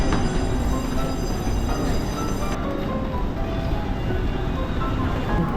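A train rumbles and clatters at the Fengyuan railway station platform, loud and close, with a high whine that cuts off partway through, and a steady rolling rumble underneath.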